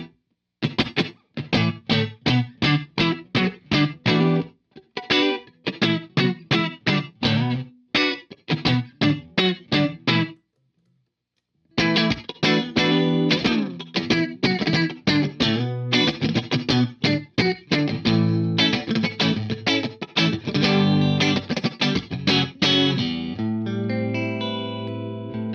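Electric guitar run through a 1980s Yamaha multi-effects processor with reverb, playing quick plucked phrases with sharp attacks and long sustained, echoing tails, a short silent gap midway, then denser strummed passages and a final held chord.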